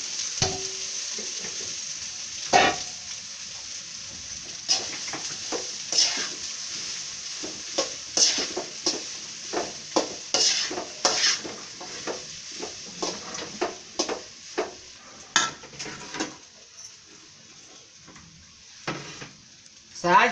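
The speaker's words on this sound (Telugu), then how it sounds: "ఇదిగోండి అన్నం వేస్తున్నాను." Cooked rice is tipped into a sizzling pan for gongura rice and stirred, with a steady frying hiss and scattered scraping clinks of a spoon against the pan.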